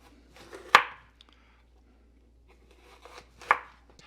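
A knife chops bell peppers finely on a board, two sharp, close thuds about three seconds apart with quiet scraping between them and no talking.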